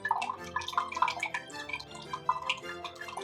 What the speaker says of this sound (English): I'm going to put in another 1/3 cup of white wine vinegar